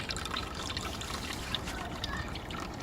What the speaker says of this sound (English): the tap for the tote doesn't close properly and it keeps leaking, and you lose all your worm juice like that